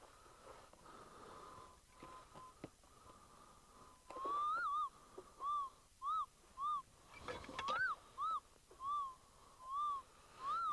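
A Minelab Eureka Gold metal detector gives a series of warbling, rising beeps over a dry wash pile, repeating about eight times in the second half above steady faint outdoor noise and scraping.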